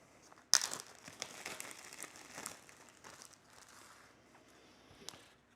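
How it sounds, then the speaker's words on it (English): A knife pierces and cuts the bottom out of a plastic Ziploc bag. A sharp puncture is followed by close, soft crinkling and rustling of the plastic, with no voices. "we've got to cut the bottom out of this Ziploc baggie"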